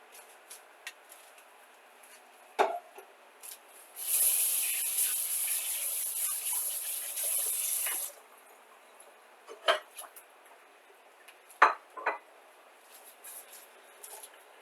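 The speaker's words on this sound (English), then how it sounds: "I'll go wash hands" Tap water runs into a kitchen sink for about four seconds of hand washing, a steady hiss framed by scattered clinks and knocks of dishes and utensils nearby.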